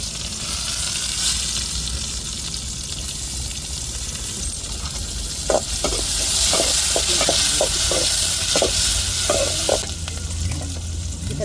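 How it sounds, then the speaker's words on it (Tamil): Chili and onion frying in hot oil, a loud continuous sizzle close by, with a run of scraping stirs and clinks near the middle, and no talk. "மிளகாய் வெங்காயத்தை சேர்த்துக்கிடுவோம்."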